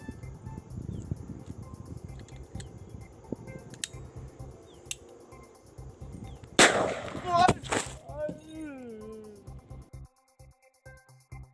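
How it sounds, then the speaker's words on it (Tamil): Gunfire from a shooting in which a man was shot dead, caught in news footage: two or three sharp, loud cracks in quick succession near the middle, over a low murmur of background noise and voices. "துப்பாக்கியால் சுட்டுக் கொன்றார்"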